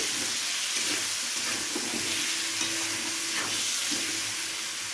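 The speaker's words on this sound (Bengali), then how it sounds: "নুন আর হলুদটাকে আলুর সাথে ভালো করে মিশিয়ে নেব।" Diced potatoes tossed with salt and turmeric in a hot oiled pan for a fish head curry, giving a steady close sizzle with scraping stir strokes throughout and no talking.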